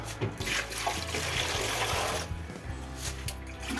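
Cold tap water runs steadily from a faucet over freshly boiled eggs in an army kitchen, a continuous close splashing rush that fills the whole stretch.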